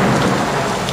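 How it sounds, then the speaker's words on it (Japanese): Heavy rain and thunder from the video game Otogirisou, a steady, loud wash of downpour with a low rumbling underneath, filling the whole second with no talk. "雨がひどくなった。"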